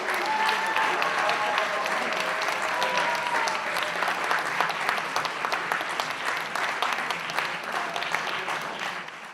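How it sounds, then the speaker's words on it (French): An audience at a young talent showcase evening applauds the performers with sustained, dense clapping that holds steady and fades only slightly toward the end, while faint voices sit underneath. "On peut les applaudir."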